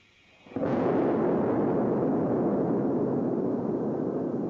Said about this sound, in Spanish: Esta explosión fue causada por harina ordinaria.